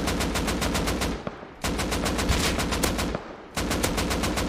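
Rifle gunfire in the video game Rust comes in three rapid, close, loud strings of shots, each lasting over a second, with brief pauses between them.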